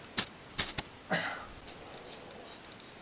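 Scissors snip a toy doll's ear, giving a few sharp close cuts and a short slicing scrape in a quiet room.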